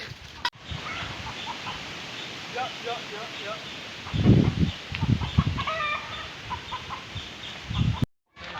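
A village guardian rooster let loose, giving several short clucks and calls amid rustling, with louder bursts midway, over a faint background and with people talking nearby.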